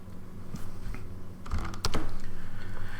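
Typing on a computer keyboard while entering circuit-simulation commands, a run of quick, fairly close key taps with a brief louder cluster partway through, over a steady low hum and no talk.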